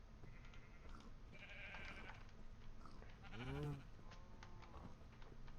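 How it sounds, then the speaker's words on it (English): A single sheep bleats in the modded Minecraft game TerraFirmaPunk, one short wavering cry midway through over a constant low hum of game ambience, no talking. "And somehow this sheep has gotten up there."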